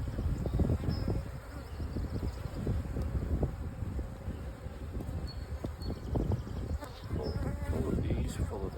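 Honeybees buzz busily on a frame from a new hive, a dense close hum of many insects with individual bees droning past, continuous throughout, with faint background noise.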